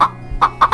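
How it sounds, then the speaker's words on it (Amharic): A hen clucks in a cartoon fairy tale: four short, sharp clucks spaced unevenly, close and clear with no other sounds. "ዶሮ ሊንከን ተቆጣችና ሰማይ እየወደቀ ነው"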